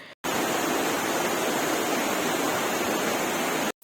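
Steady, loud roar of a waterfall with a small footbridge across its top, dense and unbroken, with no voices.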